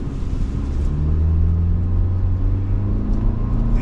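A 2025 Hyundai Tucson SEL Convenience AWD with a non-turbo engine pulls away from a stop, its steady low engine note rising in pitch as it gains speed, heard close from inside the cabin with no talk.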